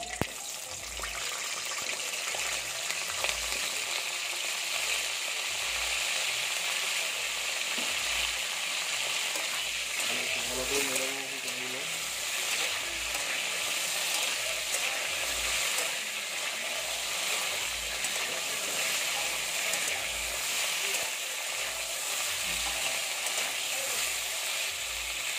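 Cauliflower florets frying in hot oil in a pan, a steady broadband sizzle running throughout with some stirring and a faint low rhythmic hum underneath.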